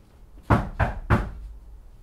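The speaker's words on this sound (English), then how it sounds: "Here's a knocking indeed." Three firm, evenly spaced knocks on a wooden door, close and distinct against a quiet background, in a staging of Macbeth.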